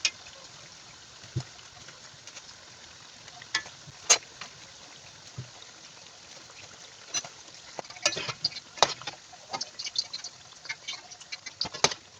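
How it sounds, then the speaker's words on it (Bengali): Vegetable pakoras deep frying in oil, a faint steady bubbling sizzle with scattered clicks and scrapes as pieces are turned one by one, growing busier toward the end. "চুলার জালটা লো থেকে একটু বাড়িয়ে পকোড়াগুলো ভাজবো।"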